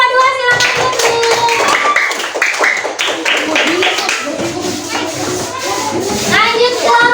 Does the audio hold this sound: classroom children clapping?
yes